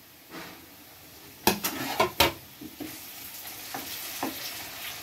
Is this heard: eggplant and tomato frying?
yes